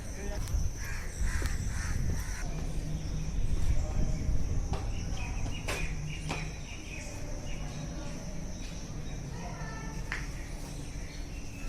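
Crows caw in short bursts over Hauz Khas lake in Delhi, mixed with other bird calls and insect chirring against a steady outdoor background; no one speaks.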